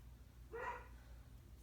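A Beagle Shepherd mix dog gives a single short bark from another room, fairly faint over low background hum, with no talking.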